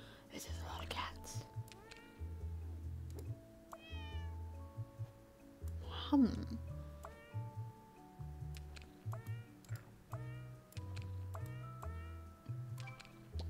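Many cats meow over and over in a video game, short bright calls scattered on top of a looping low game soundtrack, with a louder rising cry near the middle and a brief murmured voice.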